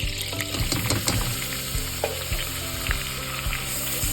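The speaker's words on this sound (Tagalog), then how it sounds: "lulutuin lang natin ito for around 1 to 2 minutes para mawala ang starchy flavor" Butter and all-purpose flour cooking into a roux for white sauce in a pan, sizzling steadily up close with the scrape of stirring; no talking.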